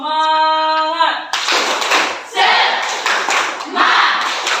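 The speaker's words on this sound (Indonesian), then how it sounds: "Kita tepuk semangat lagi sekali lagi." A school class does a tepuk semangat clapping routine: a teacher's voice leads, then the pupils clap together in three loud, rhythmic bursts, close by and filling the room.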